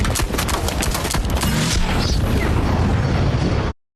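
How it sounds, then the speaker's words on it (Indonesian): Rapid gunfire from an anime scene: a dense burst of sharp shots fired in quick succession, loud and close, ending abruptly in silence. "Semakin terdesak, Shishigami menembak 3 anggota polisi"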